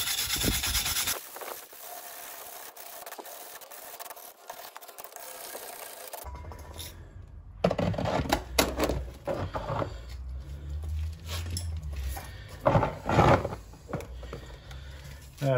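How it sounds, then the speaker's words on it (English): A wire brush scrubs rust and dust off a Citroen C3 brake hub during a brake disc change, a close, uneven scratching and rubbing in bursts, silent at first and then busier with a few louder strokes. "We're just wire brushing off."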